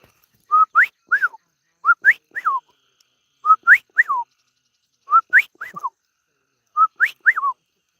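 A person whistles an imitation of a whippoorwill's song: five evenly spaced three-note phrases, each rising sharply and then falling, clear and close against silence.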